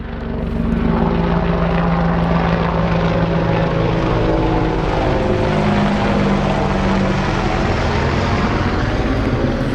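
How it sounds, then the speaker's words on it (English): An AH-64 Apache gunship helicopter flies overhead, its steady rotor and engine roar loud and continuous for the whole stretch, with no one speaking over it. "That is, I've been told, an Apache gunship. AH-64."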